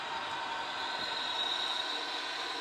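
A Piko MAV M44 model locomotive running a little faster, producing a faint, steady motor whine and rolling hum with no breaks throughout.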